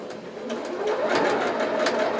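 Close sewing machine stitching bias binding onto fabric, a steady mechanical whir with quick repetitive needle pulses over about two seconds.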